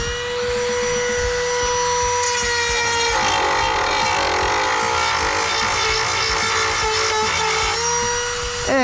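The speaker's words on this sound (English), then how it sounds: "Now I'm going to switch to a different kind of bit. That's just a cutting wheel." A rotary tool with a cutting wheel grinds the clean-out hatch of a Yamaha jet boat, a loud high whine that dips and climbs in pitch as the wheel bites, continuous and close.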